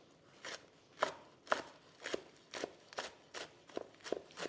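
A knife chops thick green onions on a cutting board, about nine crisp, evenly spaced strokes, close and fairly quiet, with no talking.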